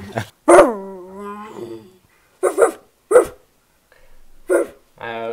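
A voice imitates a dog: a whiny, drawn-out howl, then several short, sharp woofs separated by brief pauses, close and fairly loud.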